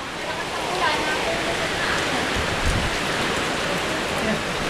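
Heavy rain pours steadily and loudly in a flood-prone area, a dense unbroken hiss of rainfall on surfaces close by, with faint voices occasionally underneath.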